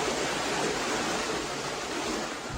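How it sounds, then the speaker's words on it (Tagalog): Strong floodwater current rushes into houses in Alyosan, Cotabato, making a dense, steady roar of water with no voices. "Ang malakas na agos ng tubig, tuluyang pinasok ang ilang bahay."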